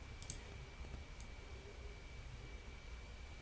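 Faint computer keyboard shortcut presses during photo editing: a couple of sharp, quiet clicks near the start over a low, hissy room background.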